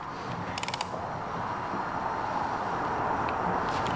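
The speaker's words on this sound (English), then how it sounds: "So we'll go ahead and torque this to about 30 foot-pounds." A torque wrench ratchets in a quick burst of clicks while tightening a bolt to about 30 foot-pounds on a Vespa P200 engine with Malossi cases. A softer click or two follows over a steady workshop hum.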